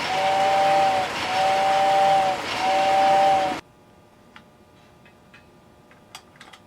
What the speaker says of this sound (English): stop making the train go by